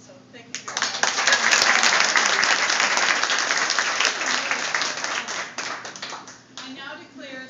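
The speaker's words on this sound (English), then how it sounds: "Let us give these officers a round of applause they so richly deserve for their contribution to the Women's Council of Realtors." Audience applause at a Women's Council of Realtors officer installation, swelling quickly into full, sustained clapping from a sizable room, then tapering off as a speaker's voice returns at the end.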